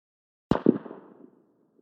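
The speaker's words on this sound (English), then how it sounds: "the faint report of a pistol" A lone pistol shot in the jungle, a single sharp report with a quick second crack and a short fading tail, faint and distant against silence.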